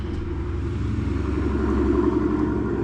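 A Sur-Ron electric motorbike with a Torp TC500 controller fitted, its motor giving a steady low rumbling hum during throttle calibration that swells slightly toward the end, close and with no speech.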